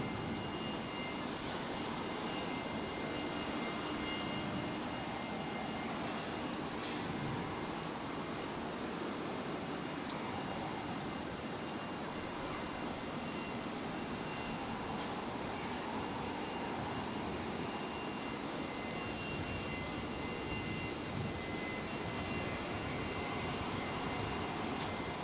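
A Rex airliner lands on runway 01 right at Brisbane, producing a constant, even engine rush at moderate distance that stays level throughout with no talk.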